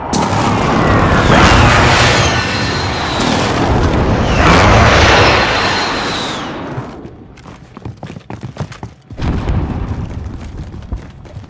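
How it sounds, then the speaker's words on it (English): Loud, booming explosions from a precision airstrike in a battle-royale video game, two big rumbling blasts that roll and decay, followed by scattered crackling debris and a further burst near the end. "Friendly precision airstrike inbound."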